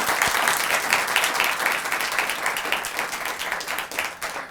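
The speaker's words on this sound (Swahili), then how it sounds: "Wapi makofi yao?" An audience claps and cheers for guests at a live talk show, sustained dense applause that stays loud throughout and thins slightly toward the end.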